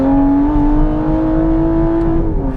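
An Aston Martin Vantage GT12 engine roars loudly and up close, holding a steady, rich droning tone with no talking over it.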